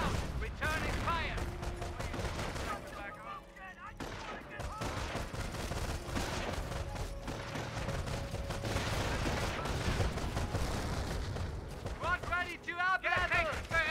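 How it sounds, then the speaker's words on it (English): Gunfire from a Company of Heroes 1 World War II battle, with bursts of rifle and machine-gun fire and distant explosions running steadily throughout, mixed with in-game unit voice lines and commentary. "Returning fire."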